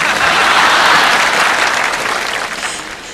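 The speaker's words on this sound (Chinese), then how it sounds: "好，我们再次用掌声来欢迎一下。" An audience at a concert applauds loudly, a dense wash of clapping that holds strong and then gradually tapers off over a few seconds.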